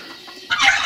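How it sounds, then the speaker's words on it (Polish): Farmyard fowl call near and loud, a burst of gobbling and clucking from turkeys among chickens, geese and ducks on a small garden farm, rising sharply halfway through the short clip. "Drób, indyki, gęsi,"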